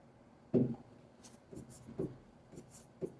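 Writing on a board during a chemistry lesson: a handful of short marker or chalk strokes in quick bursts, close and soft, with brief pauses between marks and no speech.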